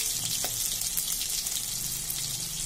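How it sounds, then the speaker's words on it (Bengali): Boiled eggs fry in a pan for an egg curry with a steady, soft sizzle throughout, a faint bubbling hiss with no voices. "ডিম আমি ভীষণ কড়া করে ভাজি না"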